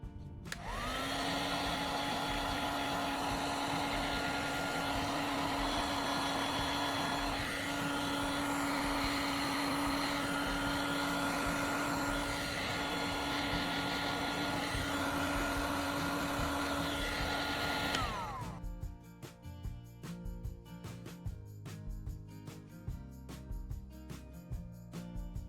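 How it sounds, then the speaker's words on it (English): Heat gun warming a short piece of flexible plastic hose: a loud, steady fan-driven roar with a constant whine, running for about eighteen seconds before cutting off, followed by quieter handling noises. "I'll use a heat gun to warm up the short piece of flexible hose"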